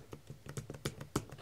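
Quick, light taps on a computer keyboard, about eight close-up keystrokes in an uneven typing rhythm.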